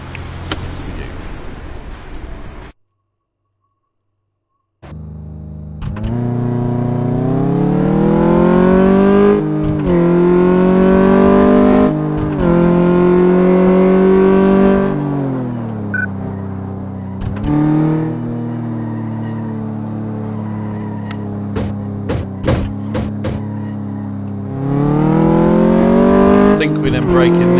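A van engine in the game Car Mechanic Simulator 2014 revs up and holds high, then drops and climbs again in repeated surges, loud and close, with a brief silent gap early on.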